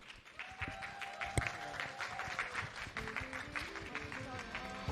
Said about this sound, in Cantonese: 再次俾多啲掌聲。